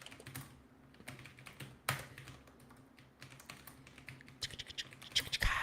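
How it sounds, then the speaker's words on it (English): Rapid typing on a computer keyboard, a steady clatter of close, crisp keystrokes with a few heavier taps and bursts, heard alone without talk. "Do you like this typing sounds?"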